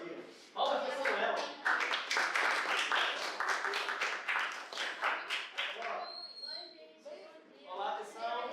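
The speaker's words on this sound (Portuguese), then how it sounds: "Palmas para Samuel" Students and teachers applaud Samuel during a school film workshop in a classroom, with a dense burst of clapping that gradually thins into scattered claps while voices chatter over it.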